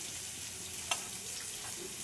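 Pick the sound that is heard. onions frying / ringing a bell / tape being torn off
onions frying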